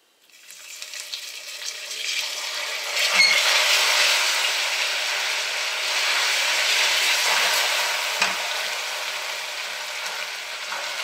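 Water is poured little by little into hot caramel in a pan over lowered heat for an orange juice pudding. A loud, close sizzle and hiss rises quickly and holds steady for about ten seconds, with no talking.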